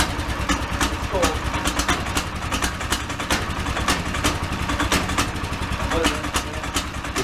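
A cold 420cc Predator engine in a two-seater go-kart idles steadily with a rough, sputtering rumble, while people talk close by over it.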